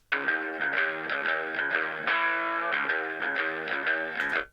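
Electric guitar with a mild, crunchy overdrive plays a repeating chordal riff, each note's attack clearly audible, sustained and steady throughout, no voices.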